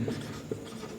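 A pen or marker scratches briefly across a writing surface in a Class 12 mathematics lesson, two short faint strokes close by with no speech.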